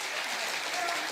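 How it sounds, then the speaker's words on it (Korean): Audience clapping at a Buddhist dharma talk held at Bongeunsa temple, a dense, steady round of applause from many hands filling the whole short moment. "박수 한번 주세요"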